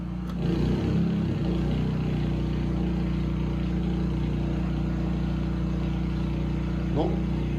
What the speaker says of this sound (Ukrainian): Зараз буде чути, який, як міняється звук генератора.